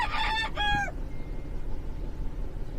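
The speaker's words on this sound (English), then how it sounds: "So why are you only getting rid of the rooster?" A rooster crows loud and close in one strained call with a rising, wavering tail that lasts under a second, then leaves only faint background noise.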